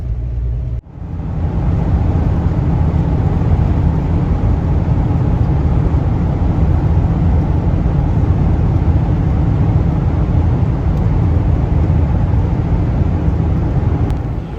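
A vehicle drives down a road between campgrounds in Montana and Idaho, a loud, steady interior rumble of engine and tire noise starting abruptly after a brief pause and holding constant throughout.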